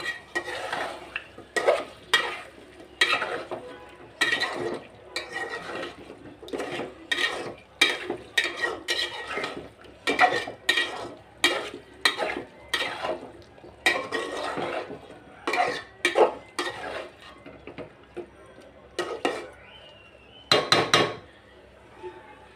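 Liver and potatoes being stirred and sautéed in a pan: repeated loud scraping and clanking strokes of a spatula against the pan over a steady sizzle, continuing in an uneven rhythm throughout.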